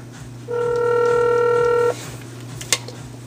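A telephone dialing tone for a prank call to GameStop: a steady tone for about a second and a half, then a brief click.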